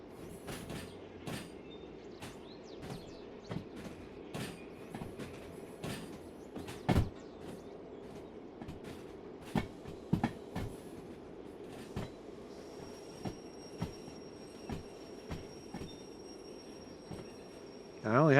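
A heavily loaded freight train hauled by a DH4 locomotive rolls steadily in the video game Derail Valley, with a low rumbling drone and regular clickety-clack wheel beats over rail joints, sustained throughout.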